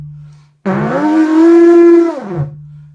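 A blown oryx horn gives one long, loud, mournful honk imitating a bull, rising and holding a steady pitch for nearly two seconds before fading, with a low hum before and after.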